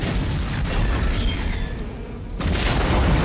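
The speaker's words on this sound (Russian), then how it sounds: "Грузовик с бензином, как я понял, круто взрывается." A gasoline tanker truck explosion in the film The Terminator: a heavy, rumbling blast roars continuously, dipping briefly before a fresh surge of blast noise swells back up.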